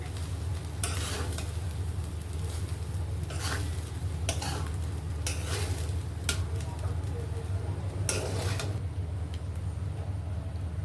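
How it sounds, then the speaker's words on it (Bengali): Vegetables for fried rice being stirred and tossed in a hot pan, a low steady sizzle with several sharp scraping strokes of a spoon against the metal, a few seconds apart, fairly faint and without talk. "তো এইভাবে নাড়াচাড়া করতে হবে সবজিটার সাথে ভালো করে মিক্স করে নিতে হবে"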